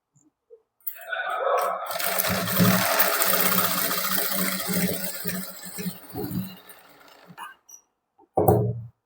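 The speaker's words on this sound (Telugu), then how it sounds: "ఒకసారితోనే నేను స్టిచ్ చేసేస్తున్నానండి" Sewing machine stitching a blouse, a long continuous whirring run of stitches that slows and stops, followed by a short second burst after a pause.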